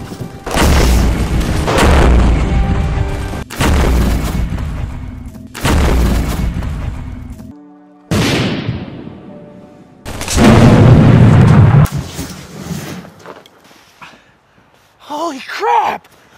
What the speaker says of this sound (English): spray paint can explosions are perfect for use in low-budget films just like ours.